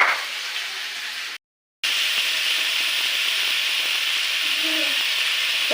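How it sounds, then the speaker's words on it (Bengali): Potatoes and eggplant fry in hot oil, a steady even sizzle hiss that drops out briefly after about a second, then resumes and carries on alone at moderate loudness. "এই দেখো এইসব আলু বেগুনটা মানে আমি ভাজতে স্টার্ট করেছি"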